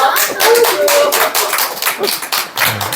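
A small group claps continuously, close and fairly loud, with irregular overlapping hand claps throughout.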